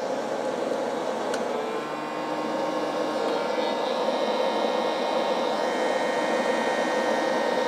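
A hair dryer runs continuously and steadily on a camper power system, giving a close, even whir and hum with no break or dropout.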